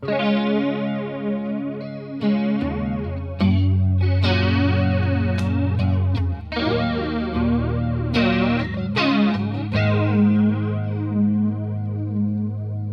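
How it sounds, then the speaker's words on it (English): An electric guitar plays sustained, distorted chords through a Strymon Mobius flanger pedal, with a sweeping, resonant, jet-like swirl running through each note; loud and alone, with no voices. "This then is a flanger."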